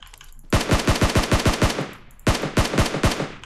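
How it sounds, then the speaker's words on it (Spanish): Automatic gunfire in PUBG Mobile, two loud close bursts of rapid evenly spaced shots, each lasting over a second with a short gap between, no talking. "Así que voy a ir hacia los disparos."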